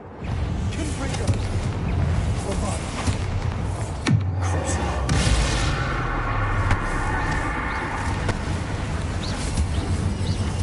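A Confringo blasting spell explodes in the Hogwarts Legacy video game, a sudden burst about midway through that spreads into a dense, continuous wash of game effects and background music.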